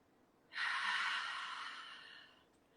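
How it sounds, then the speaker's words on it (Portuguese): A single long exhale pushed out through the throat during a guided breathing exercise: a close, breathy rush that starts abruptly, then slowly fades over about two seconds, heard alone. "Solta o ar pela garganta."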